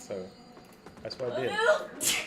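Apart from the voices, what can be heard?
sneeze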